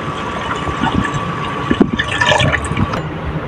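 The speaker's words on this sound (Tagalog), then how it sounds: "Lalagyan po natin ng tubig" Water splashes and gurgles as it is poured into a pot, a short burst of liquid filling over a low background hum.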